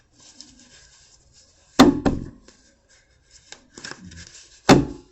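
A deck of tarot cards is cut by hand, giving a few sharp, close slaps and riffles, widely spaced among soft handling rustles and near silence.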